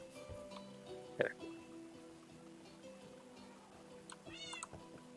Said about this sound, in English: A lot of cats running around down here too.